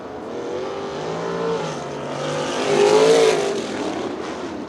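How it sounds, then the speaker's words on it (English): A dirt-track race car, number 2H, drives back onto the racetrack at a POWRi war feature, its engine droning at a moderate distance and swelling as it revs up and passes before easing off again. "As Luke Howard back out onto the racetrack in that car, number 2H."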